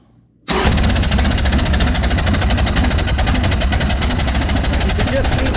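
A 1998 Harley-Davidson Sportster with a newly installed Dynatek ignition fires up abruptly and settles into a loud, steady, rough idle right up close, continuing unbroken to the end.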